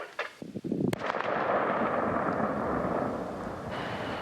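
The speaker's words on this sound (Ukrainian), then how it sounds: "решту сапери збирають докупи і контрольовано підривають" A controlled detonation of collected landmines: a sharp blast goes off in the distance, followed by a long rolling rumble that slowly fades.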